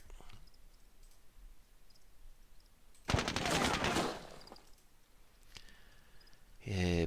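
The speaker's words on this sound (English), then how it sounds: "Let's fire some of that shrapnel in there." A burst of shrapnel fire in the war game Squad Battles Tour of Duty: a dense, rapid volley of cracking shots lasting about a second, preceded and followed by faint clicks.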